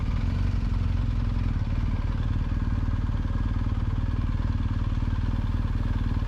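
A BMW R1250 GS Adventure motorcycle riding off-road on backcountry forest trails, a steady, loud, close engine drone with a rapid rumbling pulse throughout, no voices.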